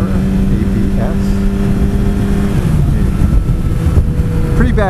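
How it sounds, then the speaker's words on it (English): Engine of a Kawasaki ZX14R ABS motorcycle droning steadily while riding, heard from the rider's position with continuous wind rush over the microphone and a slight rise in pitch near the end. "I am riding a ZX14R ABS"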